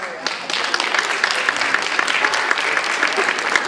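A stand-up comedy crowd claps in a dense, sustained round of applause with sharp individual claps standing out, and a voice briefly heard near the start.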